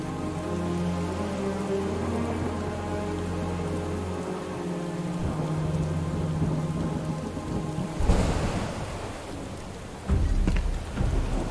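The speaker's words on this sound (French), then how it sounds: "Il pleut des cordes." Heavy rain in a video game pours steadily with a low rumbling drone beneath it, then a crackling surge and deeper thunder-like booms toward the end.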